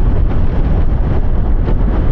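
Heavy wind buffets the microphone of a rider travelling about 90 on a group ride and camping trip, a loud, continuous low roar with no voices.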